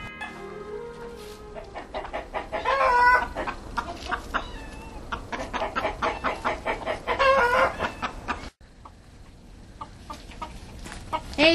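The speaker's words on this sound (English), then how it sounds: "We're just rearranging these here chickens." Chickens cluck and squawk close by in a coop, a busy stream of overlapping clucks and short calls, with a brief quiet gap before the clucking resumes.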